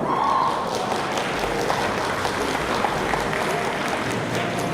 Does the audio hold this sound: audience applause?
yes